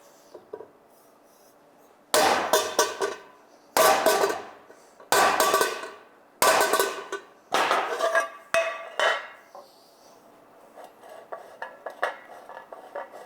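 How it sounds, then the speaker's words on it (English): Hammer blows on an upturned carbon steel skillet being beaten flat: about seven loud, ringing metallic strikes at irregular intervals, each decaying briefly, followed by lighter clinks and rattles, close by with no talk. "What we do is turn it over and then beat it with a hammer."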